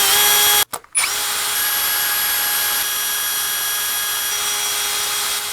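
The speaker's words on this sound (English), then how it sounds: "drill bit peg winder." A power drill with a drill bit peg winder whirs close by with a steady high whine, turning guitar tuning pegs. It halts briefly near the start, then spins continuously.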